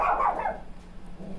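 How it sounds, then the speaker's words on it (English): A single short dog bark, close and fairly loud, fading quickly into quiet room background. "sounds like he wants to bark. There it is."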